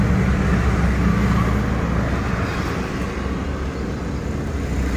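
A car engine idles steadily after being restarted, a continuous low rumble holding at an even level throughout, close by with no voices.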